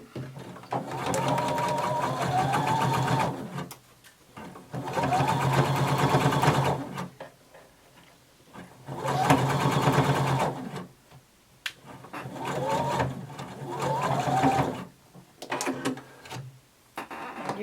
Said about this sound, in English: now we're going to sew across the sides of our band